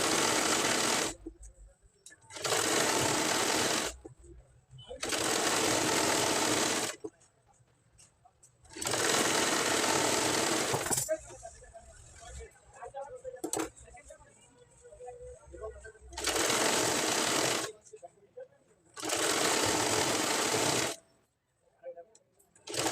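A sewing machine stitches a plain blouse in several loud, steady runs of rapid whirring and clatter, each a few seconds long, separated by pauses in which someone talks and fabric rustles.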